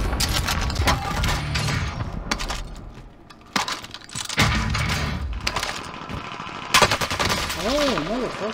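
Rapid bursts of automatic gunfire aimed at the player in a video game, sharp cracks clustering in several loud volleys with brief lulls between them, plus a warbling electronic tone near the end.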